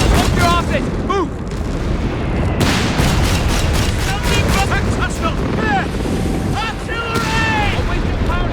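Artillery fire in a Company of Heroes 3 4v4 battle lands as heavy booms inside a dense, loud wash of wartime noise, with shouted voices and radio chatter over it throughout.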